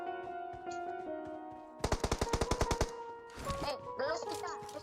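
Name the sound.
pistol gunfire in PUBG video game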